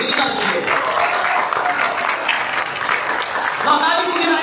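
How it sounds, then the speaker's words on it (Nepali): Applause from guests at an engagement ceremony before a cake cutting, a continuous wash of clapping with a voice talking over it throughout. "हामी सबैले जोडले ताली बजाउँ"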